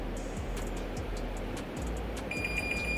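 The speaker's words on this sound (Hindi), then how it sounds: "3 बार बीप बजी।" An LG Dual Inverter 1.5-ton window air conditioner gives three short, clear electronic beeps in quick succession near the end, over a low steady hum.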